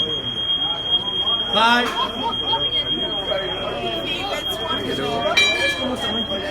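A fire alarm going off at night, a steady high electronic tone running throughout under several voices talking and greeting each other nearby.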